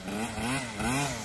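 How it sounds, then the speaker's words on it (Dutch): A small bicycle scooter motor buzzes past in the Netherlands, a thin, whiny engine note that rises and falls in pitch twice as it passes, moderately close and heard alone. "Oh jee, scootertje."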